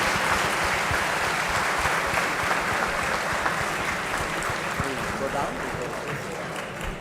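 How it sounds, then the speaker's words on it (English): A large audience applauds Dr. S. Jaishankar at the IIT Madras festival inauguration with dense, steady clapping that holds loud and continuous from start to finish. "please join me in a warm round of applause for Dr. S. Jaishankar."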